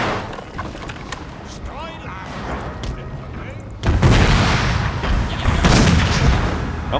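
Cannon artillery volleys from a Napoleon: Total War battle, a heavy booming burst that swells loudly about halfway through over a continuous rumble of battlefield noise, with a voice talking throughout.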